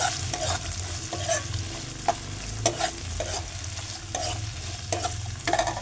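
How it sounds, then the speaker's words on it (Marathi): Onion and tomato sautéing in a pan, a dense close sizzle with rhythmic spatula scrapes recurring about every half second. "आणि कांदा पण आपण त्याच्यात लगेच टाकून घेऊ तो पण परतून घेऊया"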